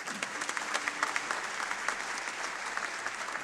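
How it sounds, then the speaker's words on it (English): An audience at a live stage show applauds with sustained, dense clapping from many hands, steady and moderately loud throughout, with no voices over it. "round of applause"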